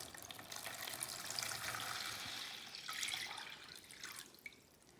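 Water is poured into a measuring container to fill it to exactly one litre, a steady broadband splashing stream that swells and ebbs over several seconds and tapers off toward the end.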